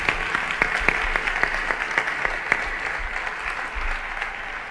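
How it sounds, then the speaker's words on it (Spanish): An audience at a flamenco and copla concert in Córdoba bursts into applause, a dense run of clapping that holds steady for several seconds, with a faint murmur of voices underneath. "Un fuerte aplauso."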